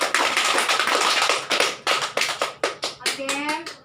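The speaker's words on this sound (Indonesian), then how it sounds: "Tepuk tangan dulu untuk Nepi." Children in a primary school classroom clap together in a rhythmic patterned series of sharp claps, close and loud, with a voice joining at the end.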